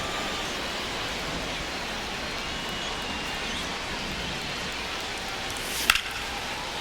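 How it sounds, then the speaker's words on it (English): Steady rain falls on a baseball field in MLB The Show 25, a soft, even hiss of drops that runs unbroken throughout, broken once near the end by a single sharp crack. "the field's not going to be able to hold up if the rain gets any worse than this"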